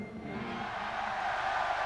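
A concert crowd at a gig sends up a sustained, distant roar of cheering and shouting that swells slightly toward the end, with no clear voices standing out.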